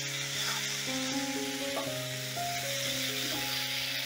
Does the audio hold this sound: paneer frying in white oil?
yes